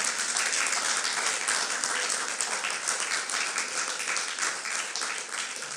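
A church congregation at a French-language fasting and prayer service applauds in a dense, sustained round of clapping that carries on throughout.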